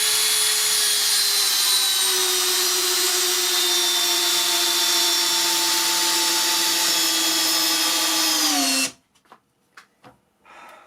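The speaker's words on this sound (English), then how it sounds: "see if I can drive 150mm straight through this bench" A Makita 40v HP001G hammer drill at setting 31, gearbox setting 1, drives a 150mm batten screw into a bench with a loud steady motor whine that slowly drops in pitch, then cuts off, followed by a few faint knocks.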